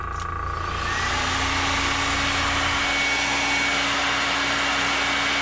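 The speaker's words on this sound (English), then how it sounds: "I'm gonna give it a heat set and maybe a second coat" A heat gun blows steadily to set freshly airbrushed color-shift paint, a loud continuous whooshing roar with a faint motor whine rising in pitch near the start, running alone without speech.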